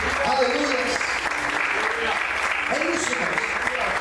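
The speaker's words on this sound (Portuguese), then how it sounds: "Você consegue aplaudir o Senhor e adorar a Ele por isso?" Church congregation applauding during a sermon, continuous dense clapping with voices mixed in throughout, steady and fairly loud.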